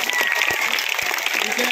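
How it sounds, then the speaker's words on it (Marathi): Students at a high school event burst into sustained applause, a dense, loud wash of many hands clapping together throughout, with a few voices mixed in. "त्याचं सर्वांनी एक वेळा जोरदार टाळ्या वाजून कौतुक करायचं"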